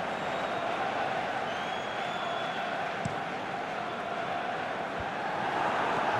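A stadium crowd in the PES 2019 video game keeps up a steady, distant roar of murmuring and cheering, a continuous even wash of noise with one or two faint thuds and no clear surges.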